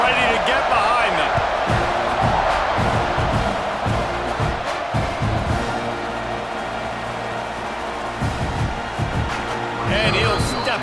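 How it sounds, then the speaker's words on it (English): Stadium crowd roaring at a college football kickoff in EA Sports College Football 26, a dense, steady wash of cheering that stays loud and near throughout, with dull thumps and bursts layered in. "this crowd now ready to get behind them."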